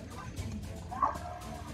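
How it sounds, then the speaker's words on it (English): A dog barks a few times in a room, a sharp yap standing out near the middle over faint background noise and game sounds. "if you hear that, that's my dog that's being a jerk right now"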